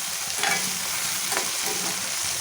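Tomatoes fry in oil for a ridge gourd curry, giving a steady, close sizzle broken by a few brief scraping stirs in the pan.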